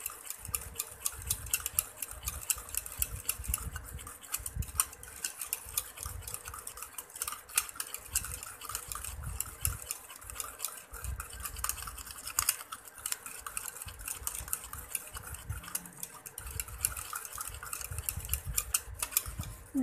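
Coffee and ingredients mixed together by hand, a steady scraping and clinking stir at a fast rhythm that continues throughout, fairly close and with no talk.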